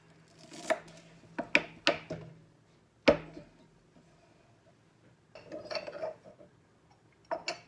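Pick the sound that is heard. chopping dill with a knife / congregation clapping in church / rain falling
chopping dill with a knife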